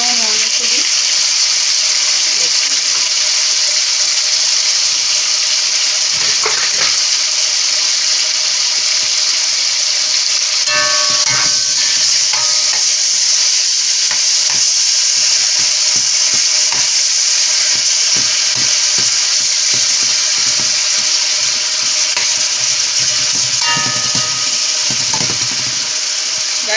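Chicken breast browning in a frying pan for a Jamaican-style dish, a constant loud sizzle with occasional clatters and scrapes of a utensil in the pan.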